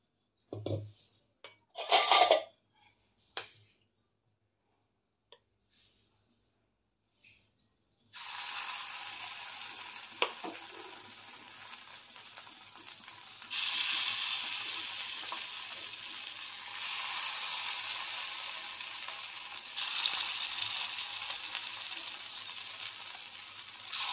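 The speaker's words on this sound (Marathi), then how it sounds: "आता यामध्ये अप्प्याचं मिश्रण घालूया।" Appe batter poured into a hot appe pan, a few clinks and small knocks at first, then a sudden steady hiss of frying that swells in loudness and continues close and even to the end.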